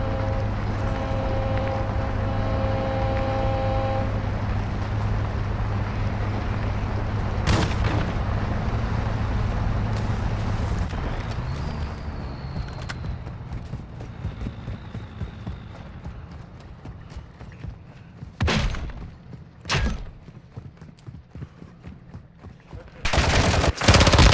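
Gunfire from AI bot enemies in Call of Duty DMZ, heard as a few sharp, separated bursts spread across a steady in-game hum and ambience, with a louder cluster of shots near the end.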